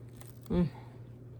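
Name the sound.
biting into crunchy homemade bread crust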